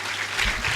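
Brief burst of audience applause for the dean at a medical sciences student awards ceremony, a dense, loud patter of clapping filling the hall, under a second long.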